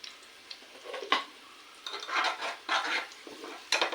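Fennel seeds, garlic and onion stirred in a pan, with soft scraping and shuffling of a utensil and light sizzling coming in irregular bursts, close and fairly quiet.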